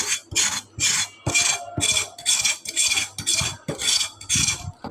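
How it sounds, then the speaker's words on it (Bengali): A pointed gourd (potol) having its soft skin scraped with a blade, giving a steady series of about ten close, rhythmic rasping strokes with small clinks between them. "তো আমি পটলটা সাঁচতেছি দেখো এরকম করে সাঁচতে হবে"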